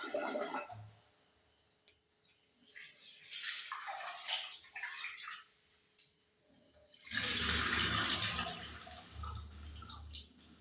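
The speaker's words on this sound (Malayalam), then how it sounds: "ഈ പച്ചരി നമുക്ക് നന്നായിട്ടൊന്ന് കഴുകിയെടുക്കാം." Raw rice for kallappam batter is washed in water, with intermittent sloshing and splashing in bursts before a sustained rush of pouring water at the end, close and clear with no talking.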